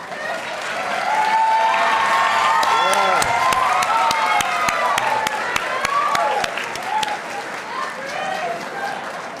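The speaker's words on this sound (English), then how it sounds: "I want everybody to give these guys a big round of applause." A banquet audience at a school sports awards event breaks into sustained, loud applause for the coaches, dense clapping filling the room with some cheering mixed in throughout.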